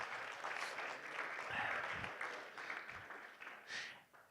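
A church congregation applauds in a faint, continuous wash of clapping heard from a distance in a large room, with a few louder low thumps.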